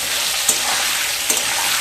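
Pointed gourd pieces frying in hot oil in a pan, a steady close hiss and sizzle with a couple of soft stirring clinks.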